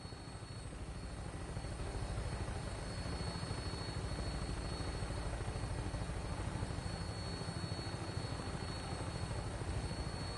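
A Fallout 4 vertibird aircraft flies on, its rotor and engine producing a steady, loud, throbbing whir with a constant high tone, heard continuously without speech.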